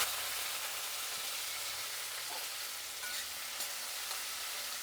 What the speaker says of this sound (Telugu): ఇప్పుడు ఎర్రగడ్డలు ఎండుమిరపకాయలు వేసుకుందాం.